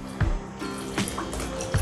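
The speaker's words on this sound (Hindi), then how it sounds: "पानी मिला लेते हैं।" Cold water is poured into a vessel while making homemade ghee, giving a steady splashing flow with a few distinct drips and plops, close and clear, without talk.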